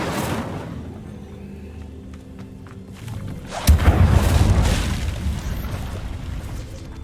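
A single booming fire-spell blast from Incendio in the Hogwarts Legacy video game bursts out suddenly and loudly, followed by a sustained rumbling roar that fades slowly over low ambient game sound.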